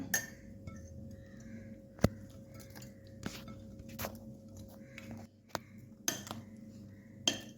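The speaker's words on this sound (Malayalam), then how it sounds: "ഇനി ഞാൻ മാങ്ങ ഇട്ട് കൊടുക്കുകയാണ്" Baby mangoes dropping into a Kashmiri chilli pickle mix, giving a few sharp clinks and knocks against the bowl, spaced irregularly, close and fairly quiet, with no talking.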